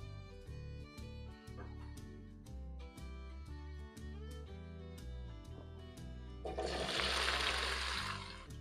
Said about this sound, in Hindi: तो अब मैं इसके अंदर भिंडी फ्राई करूँगी।